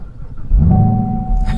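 A supercharged 6.2-liter V8 in a 2018 Chevy Camaro ZL1 fires up with a loud, deep rumble that swells after a quiet start and then holds at a steady, heavy idle, close by.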